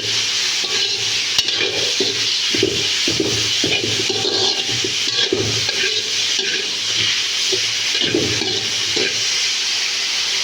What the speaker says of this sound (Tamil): ஃப்ளேமில் வச்சுட்டு நல்லா மிக்ஸ் பண்ணிடுவோம்